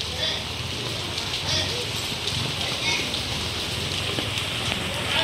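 Steady typhoon rain in Santa Mesa, Manila patters on surfaces, a dense, even hiss that continues throughout with no clear talk.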